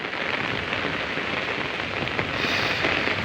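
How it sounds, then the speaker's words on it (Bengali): Heavy rain pouring steadily as a dense, loud hiss that swells slightly toward the end, with no voices. "দেখেন অনেক অনেক বৃষ্টি।"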